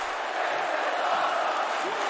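A virtual arena crowd in the WWE 2K wrestling game, at a Pittsburgh Raw show, roars with a steady, dense wash of cheering that holds at an even level through the moment.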